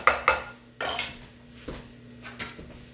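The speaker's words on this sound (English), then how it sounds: "I am going to put a lid on it." A lid pressed onto a food container holding a mixed pasta, spinach and garlic dish in a home kitchen, a few sharp clacks and plastic knocks spaced over several seconds, close and clear.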